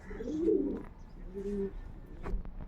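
Pigeons coo nearby in a few short, soft, rolling calls separated by pauses, fairly quiet in an otherwise calm setting.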